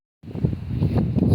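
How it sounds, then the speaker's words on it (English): Wind buffeting a microphone outdoors at a junkyard, a low rumbling roar that starts abruptly and swells into steady gusty noise. "Sorry about the wind"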